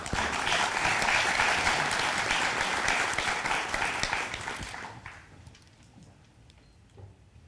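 An audience at a forum on South Korea's nuclear phase-out applauds to welcome Kim Ji-young, chair of the Federation of Korean Trade Unions. Sustained dense clapping fades to a few scattered claps at the end.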